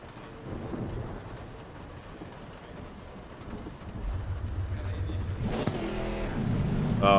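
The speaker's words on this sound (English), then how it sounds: "this shifting point sounds so good on this car" A car engine in a video game, GT4 racing, hums and then revs up, rising in pitch as it accelerates, with a quick shift blip; no talking.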